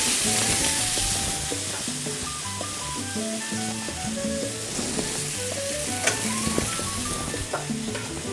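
Shredded beef frying in a small amount of olive oil, a loud continuous sizzle with stirring scrapes throughout, and light background music.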